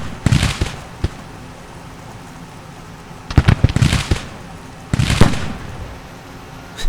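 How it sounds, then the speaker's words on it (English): Artillery booms in a Grand Tactician: The Civil War battle, heavy crackling bursts arriving in three loud clusters separated by quieter gaps. "Keep getting that artillery."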